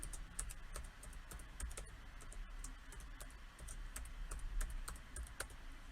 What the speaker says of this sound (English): Make sure I'm typing here.